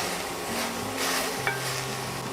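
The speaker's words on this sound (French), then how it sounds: "Donc à feu moyen, je vais faire cuire les fruits pendant environ 5 minutes." Strawberries and rhubarb cook in a pot over medium heat with a soft, steady simmering sizzle and faint stirring, plus one small clink, with no talk.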